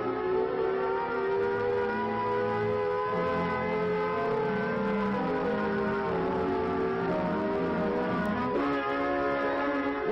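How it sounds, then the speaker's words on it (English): A warbling civil defense alert siren wails continuously, its tone wavering slowly up and down, filling the whole stretch with no voices. "the alert will be a warbling siren blast lasting 3 minutes"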